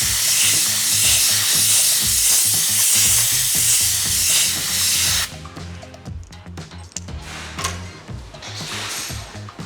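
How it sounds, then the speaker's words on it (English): An air nozzle blasts through an air filter for the RZ3S Haylon, a loud steady hissing rush for about five seconds before it cuts off into quieter rustling and handling noises. "you can often use an air nozzle to gently blow out from the back side"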